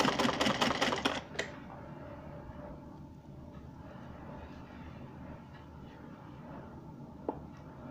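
A sewing machine stitches the hem of a salwar cuff in one quick, rapid burst of close stitching lasting about a second, then falls to faint background hum.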